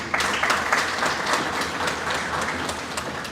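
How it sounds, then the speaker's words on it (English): Sustained audience applause at a mayoral swearing-in ceremony in Arima, a dense wash of many hands clapping steadily and fairly loud throughout, with no talk over it. "Give them a round of applause."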